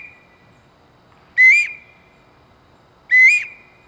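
A Q 91 quail call blown to imitate a bobwhite covey call gives two loud, clear whistled notes about two seconds apart, each rising sharply at the end, over near silence.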